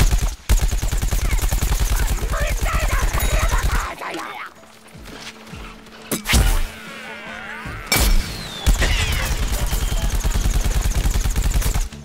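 Rapid automatic gunfire in the Plants vs. Zombies: Garden Warfare shooter game crackles in dense, continuous bursts, broken by a short lull with scattered sharp impacts before the shooting resumes loud and steady.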